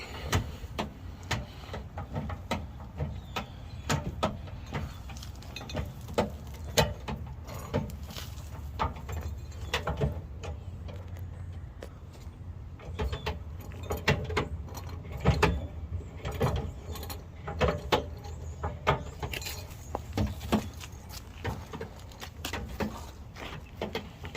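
A Jeep Gladiator spare tire winch being cranked back up by hand, repeated close ratcheting clicks and gear rattles in an uneven rhythm, with brief pauses between turns.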